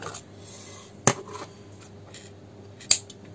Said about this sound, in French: je vais venir couper mon fil ici à peu près